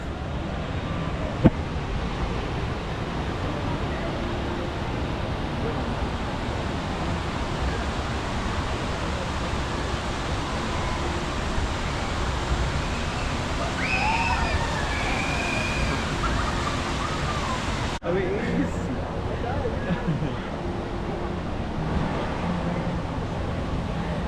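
Rushing water roars steadily at the Grizzly River Run raft ride in Disney California Adventure, a loud, continuous broadband wash with faint crowd sounds and distant calls.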